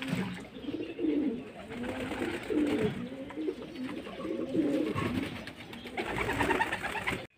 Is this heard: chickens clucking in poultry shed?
no